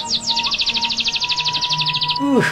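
A pet songbird kept for singing contests delivers a rapid, steady trill of bright repeated chirps, close and loud, ending in a few sweeping whistled notes.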